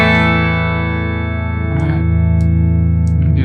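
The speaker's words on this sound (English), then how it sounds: "Let me turn the reverb off. So just totally dry guitar." Dry electric guitar played through an amp simulator with the reverb switched off, sustained chords ringing loud and close with a plucked attack near the middle and end, alone with no voices.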